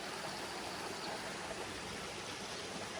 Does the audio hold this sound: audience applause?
no